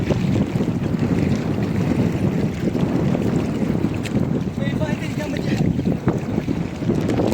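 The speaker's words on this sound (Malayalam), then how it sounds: "കടലിൽ കൂടി വള്ളത്തിലൊരു യാത്ര" A small boat rides over the sea under constant wind buffeting, with a steady rush of water and wind noise throughout and occasional faint voices beneath.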